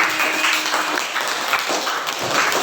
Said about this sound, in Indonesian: Terima kasih, tepuk tangan untuk Mbak Putri.